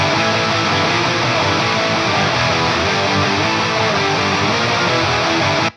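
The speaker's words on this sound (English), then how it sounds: "you have the option to layer guitars and get big sounds just like this." Layered stereo electric guitars, heavily distorted, play together in a thick, loud, continuous wash of chords that holds steady for several seconds, then cuts off abruptly at the end.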